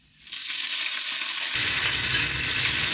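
Chopped onions frying in oil in a white-bottomed kadai: a loud, close, continuous sizzle that bursts in as they hit the pan and keeps hissing steadily.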